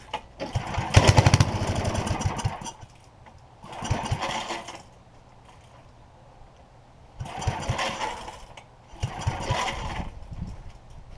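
An 8 hp Briggs & Stratton generator engine from an estate sale, alternator uncovered, is cranked in four separate bursts, each a loud sputtering churn of a second or two, with pauses between as it fails to catch.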